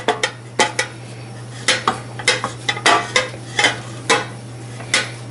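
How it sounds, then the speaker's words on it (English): The back of a spoon scrapes and knocks across the bottom of a pan in quick, irregular strokes, sharp clinks up close over a faint steady hum. "use the back of the spoon to pick up all the bits from the bottom of the pan."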